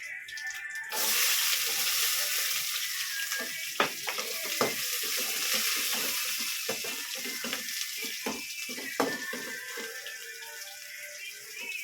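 Garlic and onion fry in a pan with a steady sizzle and crackle, loud and close, interrupted by sharp clicks and scraping stirs throughout; no one talks.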